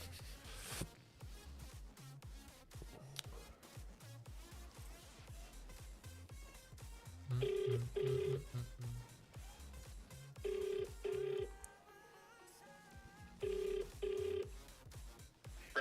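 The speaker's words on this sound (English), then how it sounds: "Let me just phone Mo and ask him when do we end the bets." Telephone ringback tone while placing a phone call, repeating in paired bursts with pauses between, heard over background music and soft clatter.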